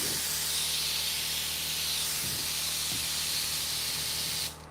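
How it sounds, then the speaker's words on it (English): A spray gun mists watered-down black paint over a chrome metalflake surface in custom automotive painting, giving a continuous close hiss that runs for several seconds before cutting off abruptly. "This is just watered down black. And I'm just doing a quick mist over it."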